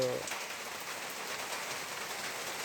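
Rain falling steadily over a paddy field where rice is being planted, a soft, even hiss of drops close by that continues without break.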